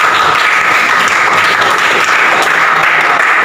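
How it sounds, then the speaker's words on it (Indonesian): A high school class applauds at the end of a lesson, a loud, dense, continuous round of clapping from many students close by that holds steady for the whole stretch, without speech over it. "Oke, tepuk tangan untuk kita semuanya."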